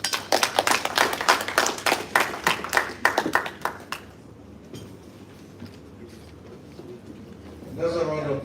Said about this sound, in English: Another round of applause for the ESG.